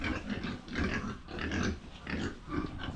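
A pet pig grunts and snorts close by in about four rhythmic, rough bursts, each followed by a brief lull, with no talking over it.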